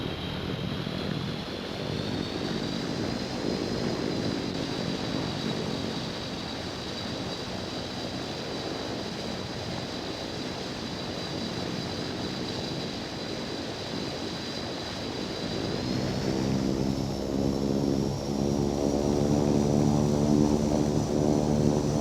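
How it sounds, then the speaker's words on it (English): Aircraft taking off in the Infinite Flight game: a steady engine drone with a sustained high whine that rises in pitch partway through as the power builds, the rumble growing louder toward the end, no voices. "Romeo Alpha Papa Tango Oscar Romeo 1 is taking off runway 21, remaining in the pattern"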